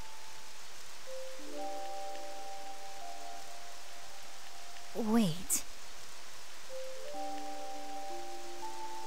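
Steady soft rainfall in the video game Octopath Traveler II, a faint continuous hiss with quiet music tones layered over it and a brief louder burst near the middle.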